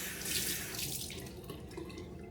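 Tap water runs steadily into a sink while someone washes their face with a Korean facial soap, a continuous close splashing hiss with no talking.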